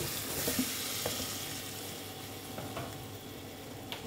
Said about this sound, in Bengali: এখন আমি আলুগুলো দিয়ে দিচ্ছি,